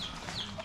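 Chickens clucking on a farm, including gamecocks, heard as a brief, faint burst of fowl calls and clucks.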